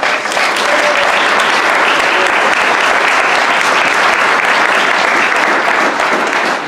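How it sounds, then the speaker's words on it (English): Sustained applause from an audience at a Seattle history book award event, a thick, even wash of many hands clapping, loud and continuous for several seconds without any speech. "Give Paul a round of applause."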